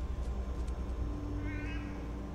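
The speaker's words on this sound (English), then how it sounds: "Oh, it's a cat." A cat gives a short, rising meow in the film The Book of Eli, heard over a low, rumbling soundtrack background.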